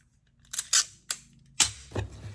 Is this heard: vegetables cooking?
no